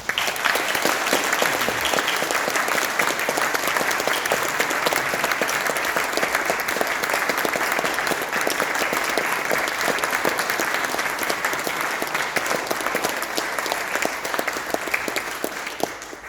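Audience applause at an award ceremony for tertiary teaching excellence, with many hands clapping steadily and loudly from start to finish and no voices rising above the clapping.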